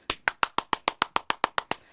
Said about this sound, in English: Everyone give Mick a round of applause.